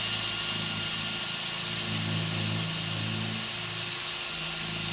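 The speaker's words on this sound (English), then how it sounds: "We need to drill out on the spar beam." A power drill bores holes in a spar beam during installation of a ProMax Ascender hood kit, a steady close whining drone with slight pitch wavers throughout and no voices.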